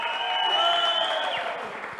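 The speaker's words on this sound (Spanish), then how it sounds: "Acompañemos el aplauso con un grito de alegría" Church congregation applauding with shouts and cries of joy, where sustained clapping runs under a chorus of raised voices whose held tones drop away partway through, leaving softer clapping.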